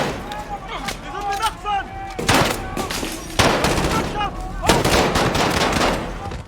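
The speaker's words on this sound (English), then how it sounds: "Guns are just loud and have an immensely satisfying report." Gunfire in an Infinity Ward Call of Duty game: loud, cracking shots in several close bursts, each ringing out briefly over a busy battlefield background.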